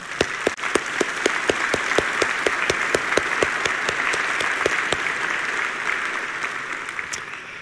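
Church congregation applauding to welcome guests at a morning service, steady dense clapping with sharp individual claps throughout, sustained and fairly loud with no talk.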